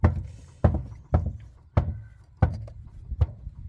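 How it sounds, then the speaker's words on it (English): An animal's tail bangs against the inside of its enclosure on a homestead, making about six dull, hollow thumps at roughly even intervals, fairly close. "That's her tail banging."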